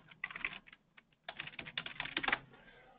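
Quiet, close keystrokes tap on a computer keyboard in two short bursts separated by a brief pause, with no one speaking.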